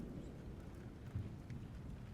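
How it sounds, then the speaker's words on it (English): Rain falls steadily at night with low rumbling thunder, a soft continuous wash with a slightly stronger rumble swell near the middle, faint and even throughout. "And it's raining with thunder and lightning flashes through the skies."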